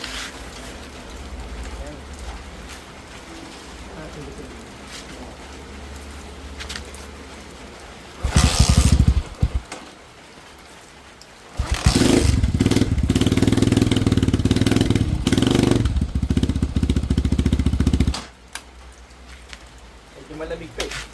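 A Motorstar Star X 175 motorcycle with a freshly repacked muffler is kickstarted and runs loud and steady at close range, falling quiet between bursts of idling and revving, with some talk underneath.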